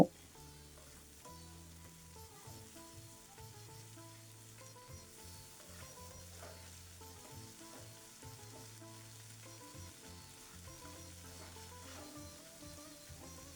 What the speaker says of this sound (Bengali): আদা রসুনগুলো হালকা ভেজে নিব